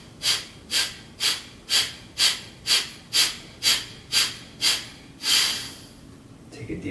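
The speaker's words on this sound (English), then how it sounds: "Take a deep breath in. Exhale it out." Deep, steady breaths during a hatha yoga session, a regular series of about a dozen breathy exhales close to the microphone, evenly spaced, with a longer final breath and no talking over them.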